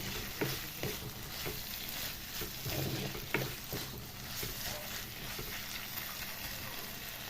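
Quiet sizzling with light scraping stirs as raisins are tossed in a frying pan while chicken cooks, soft and continuous with occasional clicks.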